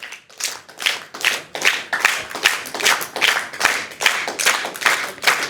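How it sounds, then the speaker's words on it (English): A group claps hands together in a steady rhythm, about two firm claps a second, loud and close, with no talking. "Do not increase speed, but now clap harder."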